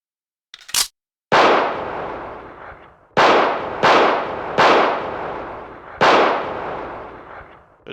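Gunfire in a British commando training scenario in a video game, a sharp crack followed by four heavy booming shots spaced unevenly, each with a long decaying echo, loud and close with no talking.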